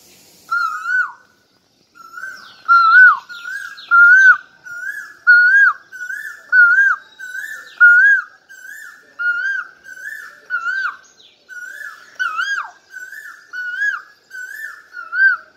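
A 10-year-old girl standing on her balcony imitates koel calls, a loud close series of about a dozen rising whistled notes in a steady rhythm, each about a second long with short pauses between.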